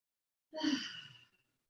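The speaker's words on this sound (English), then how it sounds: "Big exhale through the mouth." One long breathy exhale through the mouth during a relaxed yoga session, starting abruptly, swelling quickly, then tapering off over about a second in otherwise silent surroundings.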